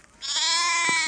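A single sustained goat or sheep bleat on a rainy hillside in scenic hill country, close and clear over quiet background.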